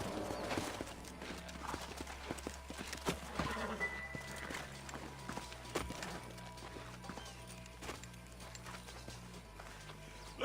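Horse hooves clip-clop steadily in the Red Dead Redemption video game, a loose rhythmic patter of several horses with a brief whinny, mixed with ambient game sound and faint voices.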